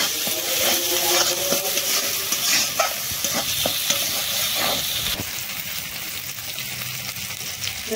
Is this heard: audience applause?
no